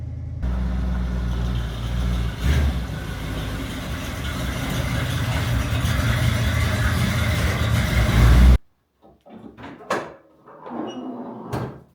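A Chevrolet small-block V8 with a Quadrajet carburetor idles low and rumbling for several seconds, close and loud, then cuts off abruptly, followed by a few scattered knocks and clunks.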